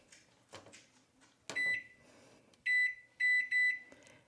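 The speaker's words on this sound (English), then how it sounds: "So I'm going to put it in my microwave." A microwave defrosting pork hums quietly with some clatter, then gives several sharp electronic beeps: one, then a short series of three close together.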